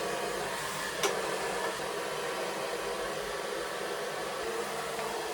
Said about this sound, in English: I'm gonna do one last blast with the hairdryer